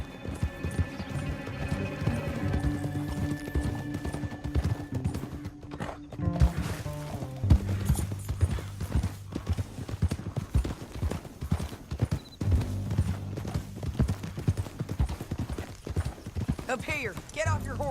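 Horses gallop with steady clip-clop hoofbeats in the video game Red Dead Redemption 2, a loud running rhythm under a music score, with voices speaking over it and a horse whinny toward the end.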